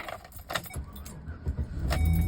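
Keys jangle close up in a truck's ignition, then the engine cranks and catches. A low rumble swells at the end of the short clip.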